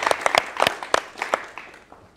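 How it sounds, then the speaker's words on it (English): Conference audience applauding after a talk at a hybrid festival session, a small scattered group clapping in uneven bursts that thin out and fade toward the end. "Yeah, let's clap."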